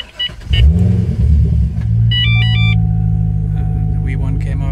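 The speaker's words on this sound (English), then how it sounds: "now I'm gonna start the car back up" A car engine cranks and catches after hardwiring a Valentine One radar detector, then settles into a steady, loud rumble close by, with a few electronic beeps chiming partway through.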